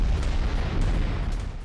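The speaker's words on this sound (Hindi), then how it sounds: "जोरदार धमाके के बाद उठा आग का गोला।" A heavy, rumbling explosion as a suicide drone strikes a Russian tank near Kharkiv, a loud sustained low boom filling the short stretch with no voices.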